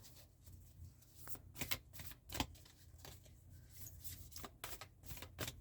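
Alchemy oracle cards are shuffled by hand in a quiet room, producing repeated soft riffling bursts and quick papery flicks at an irregular rhythm, close and faint.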